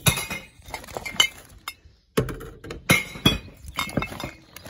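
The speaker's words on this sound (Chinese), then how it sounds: "现在赶紧去丢瓶子" Glass bottles, including oil bottles, clink and clatter as they drop one after another into a green recycling bin, loud and close, with brief pauses between.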